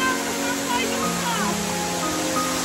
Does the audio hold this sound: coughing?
no